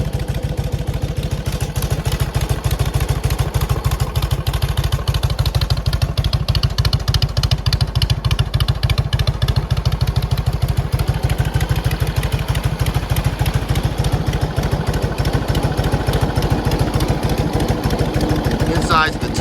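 A 1948 Indian Chief motorcycle with original paint idles close by, its rapid, even exhaust pulses thumping and clattering loudly throughout, with a person's voice mixed in at times.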